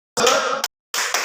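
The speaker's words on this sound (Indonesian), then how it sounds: "Oke, kita tepuk dulu," A group gives a salute clap at an Indonesian seminar on stunting in Asmat Regency: two short, dense bursts of many hands clapping together, separated by a brief pause.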